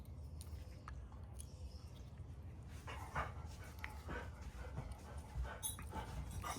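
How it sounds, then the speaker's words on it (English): A fidgety dog pants and shuffles about close by, with soft rustling and small movements throughout while a razor is being unboxed indoors. "Boy, that dog is fidgety."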